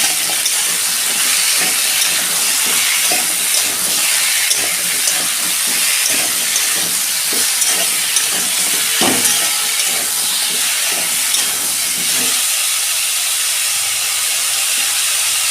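Mixed vegetables including radish, potato and eggplant frying with salt, turmeric and ginger-garlic paste, giving a steady close sizzle and hiss with scattered stirring scrapes throughout, no talking.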